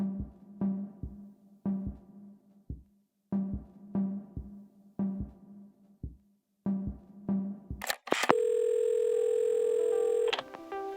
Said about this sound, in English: I wasn't sure until I reached for the phone and it all came flooding back.